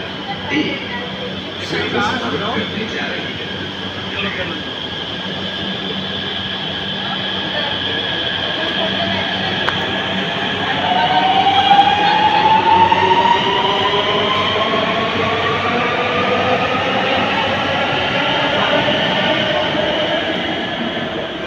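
An RRTS premium-class train stands at a platform. A loud, steady hum of rolling stock is heard with rising tonal whines and faint wheel squeal, continuous for about twenty seconds, with voices present in the background.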